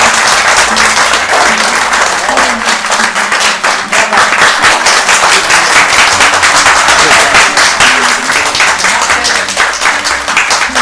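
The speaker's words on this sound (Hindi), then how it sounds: "आपकी भरपूर तालियों में जनाबे अली जरियून।" An audience at an Urdu mushaira applauds poet Ali Zaryoun, a loud, sustained wave of clapping from a large crowd lasting throughout, with a voice heard under it.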